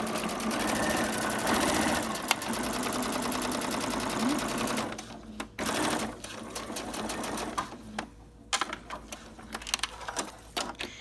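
Home sewing machine stitching through the layers of a mug rug, opening with a short back stitch, then a steady close rapid whir that breaks off into stop-start bursts and clicks, with a voice speaking briefly between runs.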